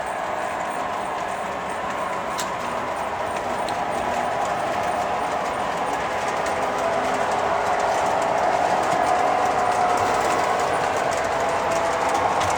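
Three O-scale FM Train Master model locomotives run steadily on a layout, giving a continuous rumbling hum with light clicking of wheels over track, unbroken throughout.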